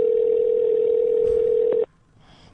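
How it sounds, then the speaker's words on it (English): A telephone ringback tone on a phone call, a steady loud electronic hum that cuts off abruptly after nearly two seconds, followed by faint line noise. "It's ringing."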